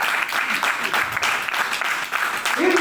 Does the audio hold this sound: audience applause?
yes